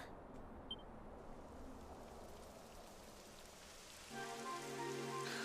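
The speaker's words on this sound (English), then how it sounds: "It would have to go and start raining, wouldn't it?" Rain falls in a Dragon Quest XI game scene, a soft, steady patter throughout, with a brighter, fuller rainfall layer swelling in near the end.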